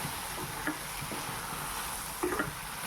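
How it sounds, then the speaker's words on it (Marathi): Spoon stirring sambar masala into egg bhurji in a pan on a home stove, a soft steady frying sizzle under a few brief scraping stirs, close and without talk. "तर हे मिक्स करणार आहोत सांबार।"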